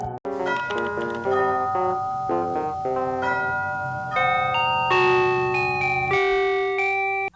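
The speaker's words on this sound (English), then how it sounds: "So he rang the bell." A doorbell chime plays a long melodic sequence of clear ringing tones, loud and close, sounding alone for several seconds.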